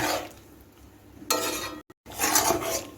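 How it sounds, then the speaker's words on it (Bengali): Sugar stirred into raw green mango chutney cooking in a pan, with scraping strokes of a spoon against metal and a faint sizzle, close by, pausing briefly before the stirring resumes. "এখন আমি চিনিটা আমের সঙ্গে মিশিয়ে নেড়ে চেড়ে কিছুক্ষণ রান্না করে নেব"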